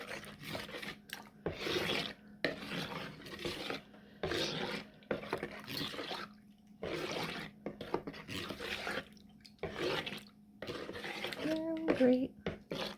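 A spoon stirs sourdough starter into warm water, giving repeated scraping, rasping strokes in steady bursts with short pauses between them. A voice talks under parts of the stirring.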